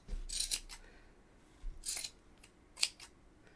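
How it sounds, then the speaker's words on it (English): Sharp scissors snip through thick yarn loops in three distinct, close, crisp cuts spaced about a second apart, with quiet pauses between, no talking. "And make sure you got a good pair of scissors, because we're using a thick yarn."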